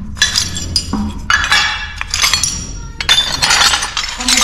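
Broken Talavera pottery plates and cups clink and clatter against each other in a close, busy jumble of sharp ceramic knocks in a kitchen, heard alone without talk.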